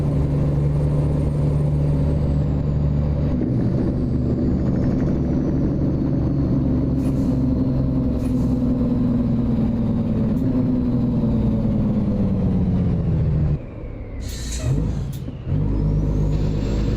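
A truck engine in American Truck Simulator, default game sounds, drones steadily at a low pitch, the tone sliding slowly as it revs, with a brief hiss and pause near the end.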